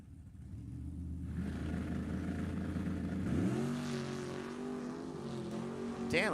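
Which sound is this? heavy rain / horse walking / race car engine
race car engine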